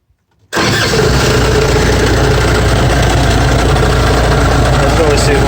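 A Cummins B diesel engine cranks and catches abruptly after near silence, then settles into a loud, steady, close idle with a rough low rumble.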